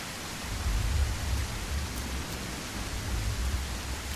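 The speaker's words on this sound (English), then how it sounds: "I guess that's the storm." Storm rain in the survival video game SurrounDead, a steady broadband hiss with low rumbling underneath, constant and fairly loud throughout with no voices.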